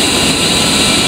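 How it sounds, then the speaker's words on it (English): The right engine of an A-10C Warthog spools up in Digital Combat Simulator, a loud steady turbine whine and roar with a bright high hum, alone. "Once again, the engine is started by moving the throttle from off to idle, or in this case, pressing the right control plus home key."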